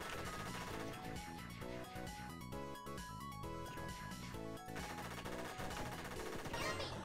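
Rapid bursts of gunfire from the indie video game Korone Box, a steady automatic rattle layered over busy game music and effects throughout.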